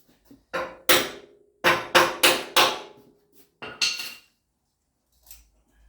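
Sharp metal hammer strikes ring out during restoration work on a 1946 Jeep Willys, a few separate blows followed by a quick run of four, then two more, each with a short metallic ring, close and loud.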